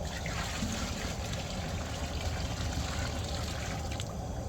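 Hot water pours continuously into a tank, a full, steady rushing trickle that stays loud throughout.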